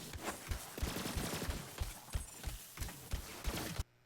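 Rapid SMG gunfire from the video game Borderlands 3, firing in quick bursts with sharp, punchy reports that cut off abruptly at the end.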